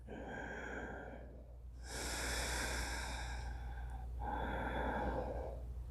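Slow, deep breathing during a yoga exercise at home, heard close and alone: one long breath, then a louder, rushing breath, then a third, each drawn out over a couple of seconds.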